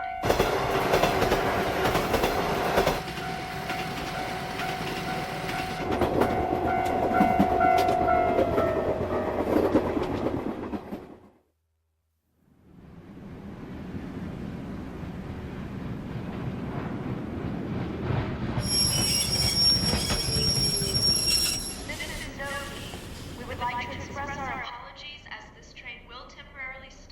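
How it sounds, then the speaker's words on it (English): A train rumbles along the rails with clattering wheels, briefly falls silent, then rolls on while a voice makes an announcement and a high squeal rings out. "This train will stop for 10 minutes at this station due to the late arrival of a connecting train."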